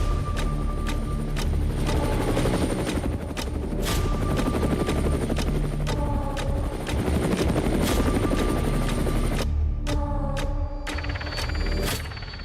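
A light combat helicopter flies close by, its rotor chopping loudly and steadily throughout, with a dense, unbroken engine and blade roar and no voices.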